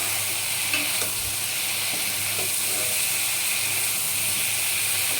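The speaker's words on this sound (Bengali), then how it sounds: "এবার আমি এই আলু আর সয়াবিনগুলো দিয়ে দিলাম। একটু ভালো করে কষিয়ে নেব।" Potatoes and soybeans fry in hot oil with a constant close sizzle, broken by light stirring and scraping in the pan.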